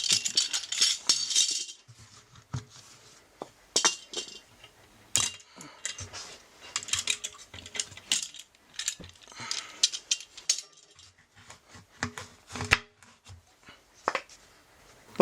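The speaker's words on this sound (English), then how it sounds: "I'll remove the clamps and the blocks." Metal clamps and blocks being removed from a tire rim, a run of sharp clanks, clicks and scraping knocks spread irregularly, close and fairly loud with quiet gaps between.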